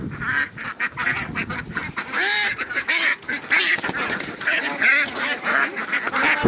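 A flock of about 2000 ducks quacking and honking continuously, many birds calling over one another nearby.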